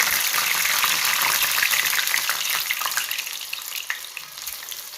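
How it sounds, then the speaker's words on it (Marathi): A traditional corn vada frying in hot oil, one at a time, a bright continuous sizzle with crackling pops, close and loud, tapering somewhat over the last seconds. "एका वेळे एकदाच हा वडा तळायचा"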